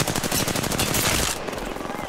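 Apex Legends gunfire, a dense, loud run of rapid automatic shots that thins out toward the end, with game sounds behind it.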